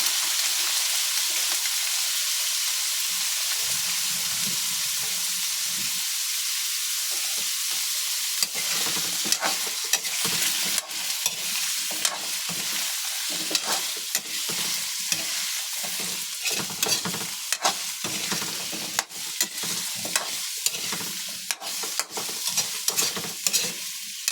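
Kalabasa squash sautéing in a pan, a steady close sizzle throughout with a utensil stirring and scraping in frequent short clicks during the second half.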